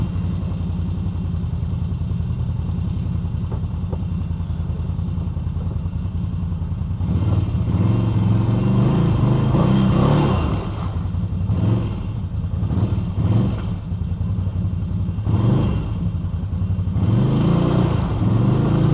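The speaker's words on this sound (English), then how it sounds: "here I have buried my ATV, and I'm not sure what's going on, but the tires are just spinning backwards and forwards" A buried ATV stuck deep in mud, its medium engine droning steadily, then revving hard in repeated surges from about seven seconds as the tires spin backwards and forwards, close and loud with no talk.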